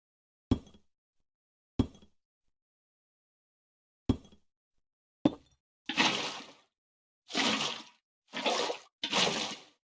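Minecraft sounds as water sources are placed block by block: four short sharp clicks spaced apart, then four longer whooshing splashes of water in quick succession, crisp against silence with no voices.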